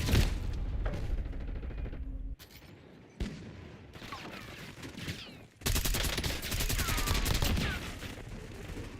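Video game war zone combat with dense, rapid machine-gun bursts and scattered shots, loud and close, broken by short lulls and then resuming in heavy sustained fire.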